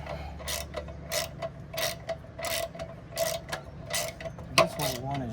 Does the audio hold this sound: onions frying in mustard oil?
no